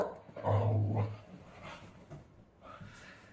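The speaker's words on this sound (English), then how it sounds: "my dog is barking" A dog indoors in a home gives a loud low growl with bark-like bursts near the start, then quieter vocal sounds and some background noise fade in.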